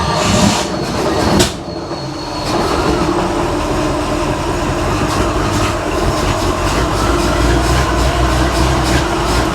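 A 1955 Chevy Nomad engine, smoking and with a struggling starter, runs loudly and steadily right after its first start-up, with a rough mechanical rumble close by.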